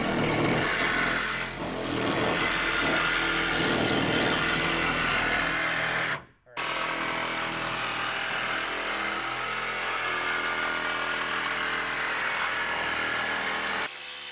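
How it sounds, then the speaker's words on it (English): A power drill cuts a hole through the metal wall of a Sprinter van during a window install, a steady loud whining grind that runs almost continuously, with one brief pause partway through, and no talking. "Drill here and then just kind of work your way around."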